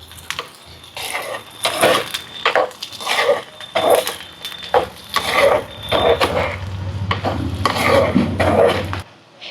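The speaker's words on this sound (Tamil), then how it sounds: "இப்போ இதெல்லாமே நல்லெண்ணெயில் நல்லா வதங்கட்டும் எல்லாத்தையும் சேர்த்து நல்லா கிளறி விடுவோம்" Garlic and onions sautéing in sesame oil are stirred with a utensil in a pan, giving repeated scraping strokes over a soft sizzle, close and moderately loud, with no talking.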